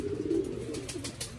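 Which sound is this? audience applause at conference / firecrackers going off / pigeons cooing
pigeons cooing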